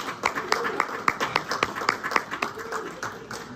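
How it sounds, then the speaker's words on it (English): Applause from an audience honouring a winner at a Tony Hubbard Legacy Builders event: a loose run of sharp hand claps that grows and thins over a few seconds, with talk and cheering voices mixed in. "Ms. D. Curtis, stand. Everybody give her a round of applause."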